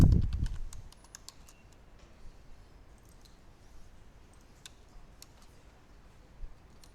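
Soft, sparse keystrokes on a computer keyboard tap at irregular intervals, faint and close in a quiet room after an initial thump, with no talking.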